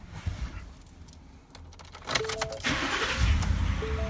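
Keys jingle and click, then a truck engine cranks and catches, settling into a steady low rumble.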